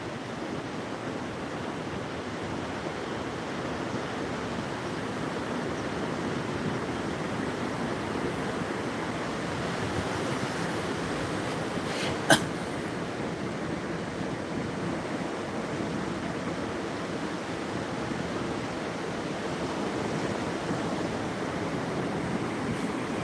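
Sea surf washes steadily against the shore as a continuous broadband roar mixed with wind buffeting the microphone, with one brief click midway and no voices.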